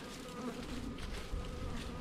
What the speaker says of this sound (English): there's a lot of bees trying to get into a small space